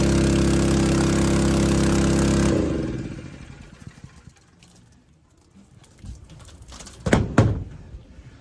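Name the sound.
pump running, pumping a strong water stream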